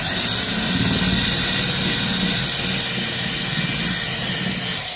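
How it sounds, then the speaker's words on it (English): A wire wheel grinds corrosion off the body metal of a 2003 Cadillac CTS driver's quarter panel, giving a steady, loud, hissing whir that runs continuously and close up without pause. "Alright, yeah, we're just hitting this with the wire wheel here."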